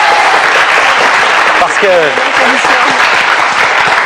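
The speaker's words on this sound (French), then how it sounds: "on va les applaudir très très fort" Studio audience on a French word-game show applauds two middle-school contestants, loud continuous clapping throughout with a host's voice briefly speaking over it.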